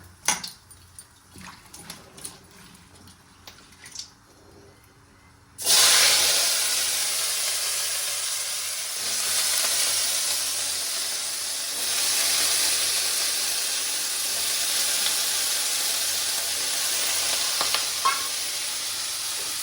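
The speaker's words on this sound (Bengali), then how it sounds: "যেমন কি একটু জিরে, শুকনো লঙ্কা, তারপরে আলুটা দিয়ে দেবে।" Potatoes dropped into hot oil with cumin seeds and dried red chilli, a few clinks and rustles giving way to a sudden loud, steady sizzle that keeps hissing close by.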